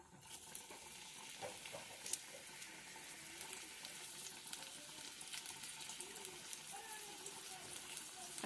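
Onion and chili sizzle and crackle steadily in hot oil, with a continuous close frying hiss and occasional stirring scrapes and small pops, no talking.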